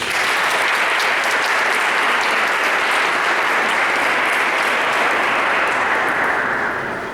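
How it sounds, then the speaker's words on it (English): Graduates at a prayer, praise and recognition celebration give their families a round of applause, a dense, steady wash of many hands clapping that holds at full strength throughout and starts to thin right at the end. "Graduates, please give your family members a round of applause"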